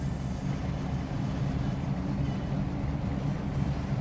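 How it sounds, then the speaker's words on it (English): A V8 Holden engine idles in the GRID Autosport racing game, heard from the cockpit as a steady, low, rumbling drone that holds even and continuous throughout, with no talk over it. "So now there's a lot higher idling sound."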